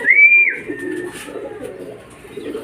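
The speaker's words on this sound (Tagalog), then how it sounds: "Ayan mga kalapatids, meron pa isa." A pigeon coos close by at a racing loft during a club fun race, one rising call followed by soft low cooing, loud and clear with no talk over it.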